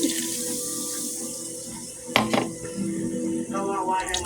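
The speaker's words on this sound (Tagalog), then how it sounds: "Magsagol ta og Sprite sa atong tubig." Sprite is poured into water in a kitchen cooking setting, making a steady liquid splash with a few clinks of dishware. It sounds close and moderately loud, and a voice can be heard faintly in the background.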